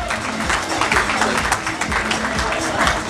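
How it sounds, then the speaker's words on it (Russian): A crowd at a bodybuilding and fitness cup in Uzbekistan claps for the winners, dense close applause running throughout with voices talking over it. "Ваши аплодисменты, ребята."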